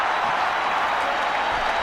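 Cricket crowd at an India vs Sri Lanka one-day international cheering and applauding, a steady broad wash of clapping and voices filling the stadium throughout.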